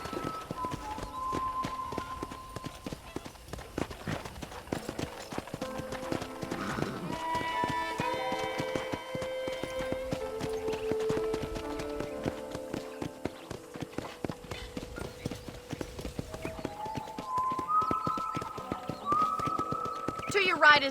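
Steady clip-clop of horse hooves trotting in Red Dead Redemption runs throughout, close and rhythmic, under a musical score.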